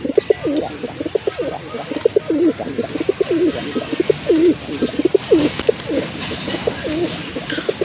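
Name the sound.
pigeons cooing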